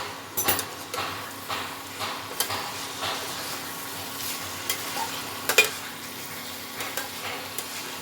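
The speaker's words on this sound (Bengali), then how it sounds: "এটা আরেকটু কষিয়ে নেব।" Potato and prawn masala sautés in a pan with a soft, steady sizzle, broken by scattered scrapes and taps of a spoon stirring, quiet and close with no talking.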